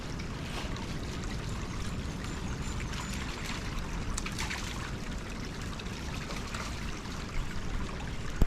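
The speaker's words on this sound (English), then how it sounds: "Listen to the river, not the dog." River water flowing and trickling through a wooded dene, a steady broadband rush close by with faint splashy detail and no talk.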